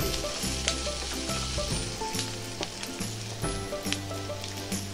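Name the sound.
onions and tomatoes frying in oil for chicken curry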